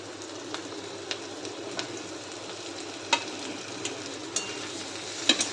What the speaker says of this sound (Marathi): मसाला घातलेली भेंडी घालून 2 मिनिटं परतून घेऊया